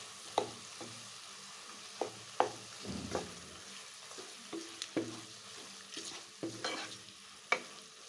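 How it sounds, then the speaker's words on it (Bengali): Tomatoes stirred in a pan for a sweet and sour tomato dish, a ladle scraping and knocking the pan at irregular intervals over a soft, steady sizzle, close and fairly quiet. "এবার ভালো করে নাড়িয়ে নেব।"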